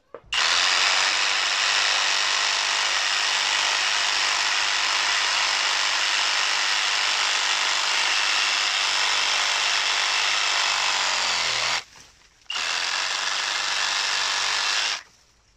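DCK 20V brushless reciprocating saw cutting through a wooden branch, a loud, steady, close buzzing saw drone lasting over ten seconds with a brief pause near the end before resuming.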